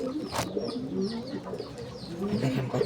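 Large Bagha pigeons, a pair kept as racing birds, cooing softly in repeated low throaty calls close by, with a brief rustle of movement among them.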